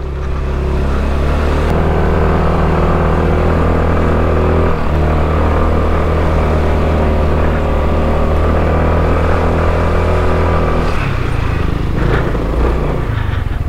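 A motorcycle engine strains loudly and steadily up a steep, narrow mountain road on Mt. Timbak in Atok, Benguet, a close, continuous labouring drone that shifts pitch near the end.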